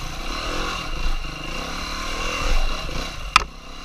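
A 390 four-stroke motorcycle rides a single track trail, its engine revving up and down unevenly near the microphone, with a sharp knock or clatter near the end.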